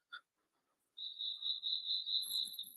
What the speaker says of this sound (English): the sounds of nighttime insects here in Oklahoma